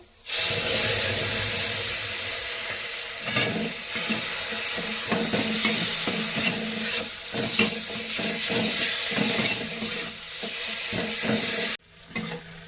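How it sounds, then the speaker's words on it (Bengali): Spices frying in a pan with a paste of ground pointed gourd seeds hiss loudly and continuously, with rhythmic scraping and stirring over the sizzle before it cuts off abruptly near the end. "হালকা করে মশলা ভাজা হয়ে গেছে"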